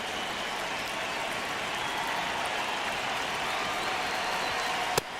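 Baseball stadium crowd in the MLB The Show 26 video game, a steady roaring wash of cheering and applause that holds evenly throughout, with a brief sharp crack near the end.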